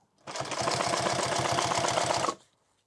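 A sewing machine stitches padding for a helmet in one short, fast burst of even mechanical rattling, loud and close, starting and stopping cleanly with no talking.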